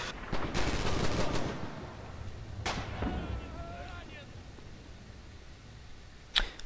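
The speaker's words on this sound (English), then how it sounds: "There goes the MG-man firing." An MG34 machine gun fires in a World War II multiplayer video game, with rapid bursts of gunfire at first, then scattered distant shots and one sharp, loud report near the end.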